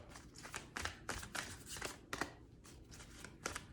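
A deck of tarot cards is shuffled in a series of quick, soft riffling bursts at an uneven rhythm, close and quiet, with no speech.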